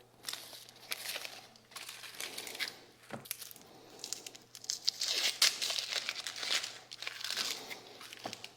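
Papery outer skin being peeled from an onion with its root left on, a run of close crinkling, tearing rustles with a few sharper crackles, busy and fairly quiet with no talk.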